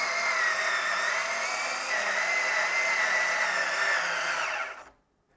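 A power drill drives a screw into a countersink, a loud continuous motor whine that runs steadily for several seconds and then abruptly cuts out into silence.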